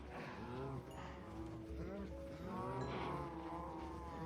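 Cattle lowing in the Minecraft video game, several drawn-out moos overlapping one another across the whole stretch, loud and close with a steady background bed.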